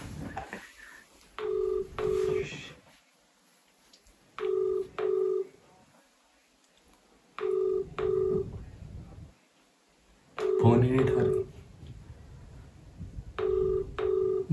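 An outgoing phone call rings over a speakerphone. Five evenly spaced double-ring bursts sound at close range, separated by pauses of near silence.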